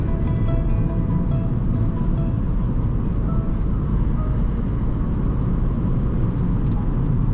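A bus joining the motorway at night with a 50 mph limit, a loud, steady low engine and road rumble that holds constant throughout, close and enveloping, with faint rattles above it.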